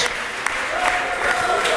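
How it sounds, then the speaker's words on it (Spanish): A church congregation claps together in a dense, continuous burst of applause lasting a couple of seconds. "Denle un aplauso al Señor."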